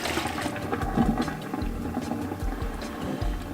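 Sponge being rinsed under running water at a kitchen sink while cleaning a fryer, a steady close gush and splash with faint gurgling.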